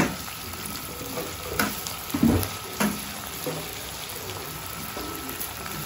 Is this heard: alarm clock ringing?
no